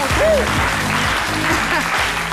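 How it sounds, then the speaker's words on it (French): Studio audience applauding on a French-language midday television talk show, steady dense clapping that fills the whole stretch, fairly close and loud. "Merci de bien vouloir l'applaudir."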